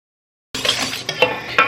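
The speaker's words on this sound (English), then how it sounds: "what I'm going to do is just give these a quick whisk" Baked oatmeal ingredients are whisked in a bowl, a short close burst of rapid clinking and scraping that starts abruptly after a moment of silence.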